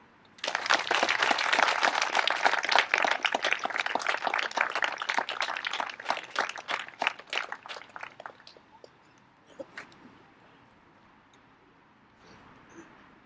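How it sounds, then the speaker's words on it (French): An audience at a ceremony in the mayor's presence claps loudly and steadily for several seconds, then the applause thins out and fades into quiet room sound. "Donc je vous remercie de les applaudir très fort."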